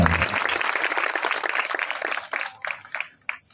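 Church congregation clapping hands together in worship, a dense burst of applause that thins into scattered, separate claps toward the end.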